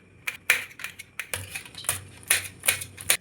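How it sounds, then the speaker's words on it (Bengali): A knife chops green chilli on a board in a quick, uneven run of about a dozen sharp, close taps of varying strength. "এখানে লঙ্কাটা কুচি করে নিচ্ছি"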